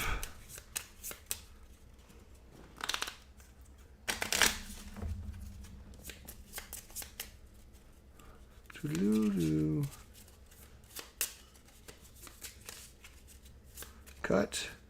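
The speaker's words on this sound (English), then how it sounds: "So we're going to shuffle it face up in the villain deck." Playing cards for the Sentinels of the Multiverse board game are shuffled into a deck in several crisp riffling bursts with pauses between them, close and clear, while a person talks in between.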